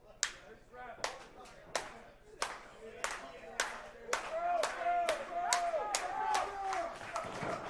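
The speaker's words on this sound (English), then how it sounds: "I started that clap to motivate our audience" Steady rhythmic clapping from a small crowd at a live wrestling show, sharp regular claps building in pace, with commentators talking over it and a brief shout near the end.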